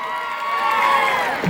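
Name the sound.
audience applause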